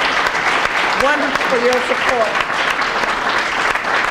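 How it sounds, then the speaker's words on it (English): An audience at a peace award event gives Phil steady applause that carries all the way through, with someone speaking over the clapping. "So give Phil another round of applause"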